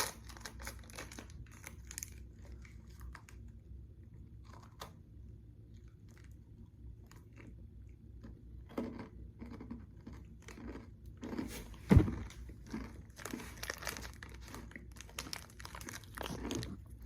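Biting and chewing a granola bar close to the mic, with crinkly crunches and wet chewing that come in scattered bursts and build to a sharp bite and busier chewing toward the end, no talking.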